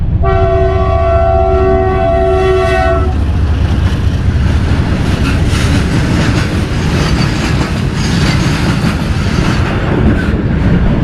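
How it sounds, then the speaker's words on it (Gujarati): A train horn blares for a few seconds, then a loud train rumbles and clatters past nearby, continuous rolling noise. "જો આડે મળી ગઈ ટ્રેન."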